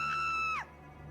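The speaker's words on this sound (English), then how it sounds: "you hear a woman's scream" A woman's high, sustained scream rings out for about half a second, then breaks off in a sharp falling cry, set against a quiet room hum, as though coming from behind the building.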